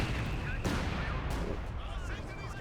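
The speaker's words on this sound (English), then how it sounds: "I can hear the first mortar hits from the mortar pits, trying to hit something left side." Mortar pits firing in a strategy war game, dense rumbling battlefield booms and blasts rolling continuously, loud and close with a few sharper impacts standing out.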